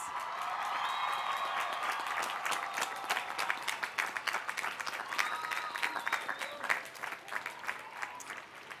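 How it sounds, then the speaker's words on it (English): A large graduation ceremony crowd applauds steadily, dense clapping that gradually thins toward the end, with a few faint tones over it. "give them a well-deserved round of applause"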